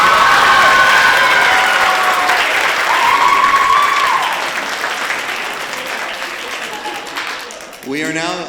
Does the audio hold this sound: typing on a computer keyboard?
no